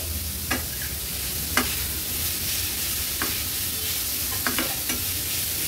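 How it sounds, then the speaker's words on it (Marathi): Grated red pumpkin sautés in melted ghee, giving a continuous close sizzle broken by several sharp scraping knocks of a spatula stirring the pan, with no one talking. "छान ह्याला मी परतून घेते तुपावर"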